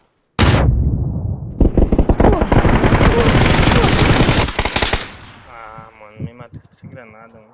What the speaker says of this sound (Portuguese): Granada, mano.